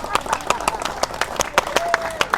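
Worshippers clap in a steady, rhythmic beat during a church service, sharp, evenly spaced claps at a brisk tempo with a voice audible alongside.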